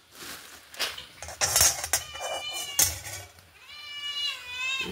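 A frying pan set down on a stove for roasting masala, with metallic clinks and knocks of cookware and a brief high-pitched squeal near the end.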